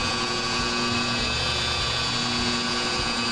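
A power polisher hums steadily on car paint, a constant whirring drone with a high-pitched whine throughout, close and unbroken, with no talking.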